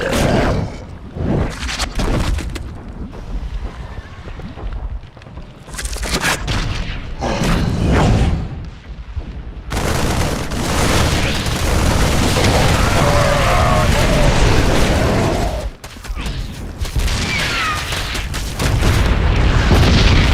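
A city gate is blown apart in StarCraft II, with repeated heavy booms and explosions rumbling loudly over a long stretch, some rolling and some sharp.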